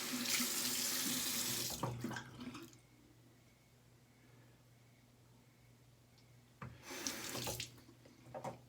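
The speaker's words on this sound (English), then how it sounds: "So we're just going to rinse off." A kitchen tap gushes water to rinse a silicone bowl, loud at first, then cut off into quiet before a second burst of running water near the end.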